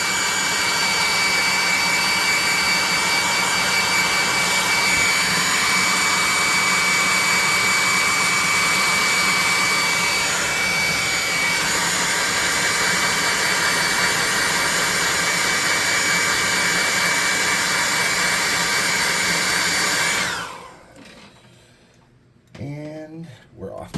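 A hot air gun runs at full blast in a workshop while sewer scenery is being crafted, a loud steady roaring whoosh with a faint whine that holds for about twenty seconds before cutting off.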